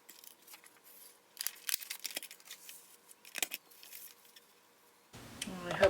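Scissors cut paper for a circle journal in short bursts of snipping and crisp rustling, close and fairly quiet, and a louder paper sound comes in near the end.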